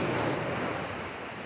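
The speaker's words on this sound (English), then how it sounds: "I'm at the beach" Steady broadband wash of surf on a foggy beach, continuous and moderately loud with no voices.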